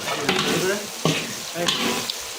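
Onions and green chilies being stirred in a frying pan for spicy pickled-style eggs, with a steady close sizzle and a few sharper scrapes of the spoon, no voices.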